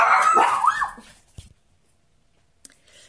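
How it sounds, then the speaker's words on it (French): Dogs barking and yelping loudly and close in a burst during the first second, then fading to near silence with a few faint later yips. "donc ça c'était mes chiens, ça y est, je les ai calmés"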